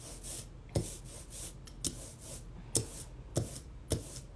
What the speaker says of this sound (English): If you don't get that zippy sound and it sounds kind of dry, then that means that you don't have enough ink